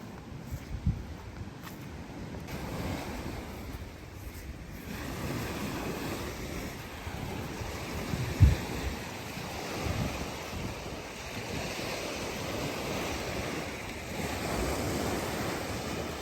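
Ocean waves washing onto a beach in Canada, a continuous rolling surf roar mixed with gusting wind buffeting the microphone, one brief thump partway through, no talking.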